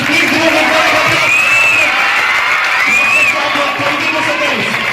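A school crowd at a National Mathematics Day Rubik's Cube contest cheers and claps, with children's whoops and shouts rising over a continuous loud wash of applause.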